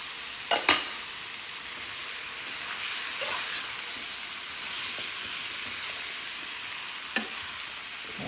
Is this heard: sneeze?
no